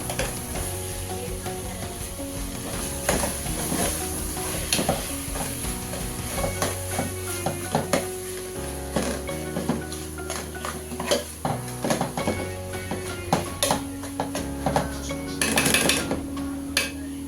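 Kerala-style chicken biryani is stirred in a pot, with frying sizzle under repeated scrapes and clinks of a spoon against the metal. The stirring is close and uneven, with louder strokes near the end and no voices.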